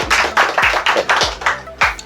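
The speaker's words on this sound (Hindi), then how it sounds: "एक बार इनके लिए ताली हो जाए।" A small group claps for a student at a hands-on fire alarm training session, about eight crisp, evenly spaced claps in unison, close and fairly loud, with faint voices in the background.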